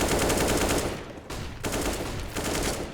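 Rapid Counter-Strike gunfire during a competitive match on the Train map, dense overlapping shots crackling loud and continuous, with a brief dip in the middle before the shooting resumes.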